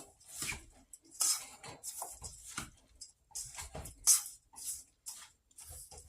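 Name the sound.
mixing squash casserole in pan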